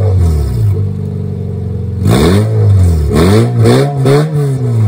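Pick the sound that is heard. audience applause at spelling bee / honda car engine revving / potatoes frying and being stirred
honda car engine revving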